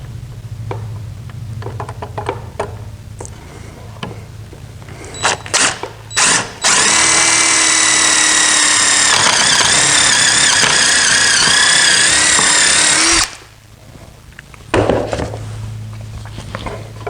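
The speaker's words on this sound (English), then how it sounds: "now we're just going to put these braces in with bolts" Power drill driving bolts into braces of a cedar camping table: short bursts and taps first, then one long sustained whirring run with a rising tonal whine that stops abruptly, followed by a brief final burst.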